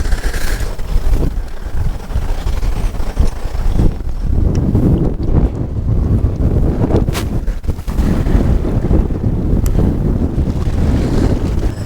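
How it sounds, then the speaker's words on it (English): Strong wind of about 30 miles an hour on the Oregon coast buffets the microphone in loud, roaring gusts, mixed with surf noise, sustained throughout with no talking. "It is just 30-mile-an-hour wind down here."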